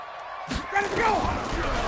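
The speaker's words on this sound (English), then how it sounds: "the crowd getting into it as we come up on a big 3rd down" Crowd noise in an American football video game, a broad swell of cheering that rises after a sharp thump and holds steady as the broadcast commentary continues over it.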